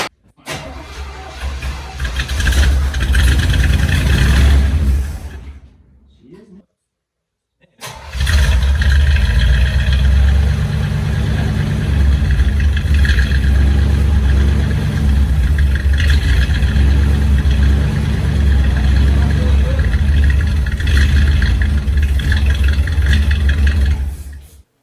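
An abandoned 1967 Chevrolet Impala V8 cranks, falls briefly silent, then catches and settles into a loud, steady, rough idle that runs uninterrupted for a long stretch.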